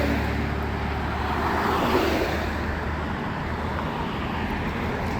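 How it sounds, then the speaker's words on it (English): Steady road traffic rolls past near Veterans Memorial Bridge by Old Fort Park in Fort Wayne, Indiana, a continuous broadband wash of cars and heavier vehicles at moderate distance with no clear single pass-by. "There's the traffic again"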